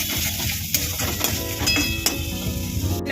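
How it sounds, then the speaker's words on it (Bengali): Spiced paneer masala with ginger paste, salt and Kashmiri chilli sautéed in a pan: a continuous dense sizzle with intermittent clinks and scrapes of a spoon against metal, close and steady. "এবার এটা আমি ভালো করে কষিয়ে নেব।"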